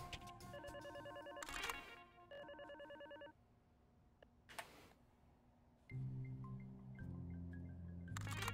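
An alarm phone in the video game Hacktag rings with electronic trilling bursts, followed by beeps and a low synthetic drone. The sound is moderate and unaccompanied.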